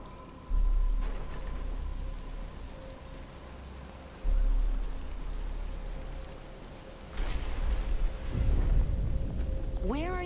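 Rain begins falling in a Batman: Arkham Asylum cutscene, a soft steady patter beneath low rumbling booms, a sustained musical tone and a few spoken lines.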